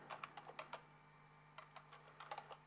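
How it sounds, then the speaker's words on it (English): Computer keyboard typed on while working in Microsoft Visio: two short bursts of soft, quick key clicks with a pause between, close and quiet, no talking. "So if I type measure"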